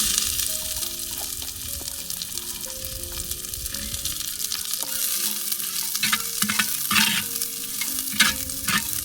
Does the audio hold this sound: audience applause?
no